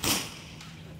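One sharp, sudden crack of a .25 caliber semi-auto PCP air pistol shot that fades quickly, with a faint metallic tick shortly after as the pellet hits a can at 25 yards.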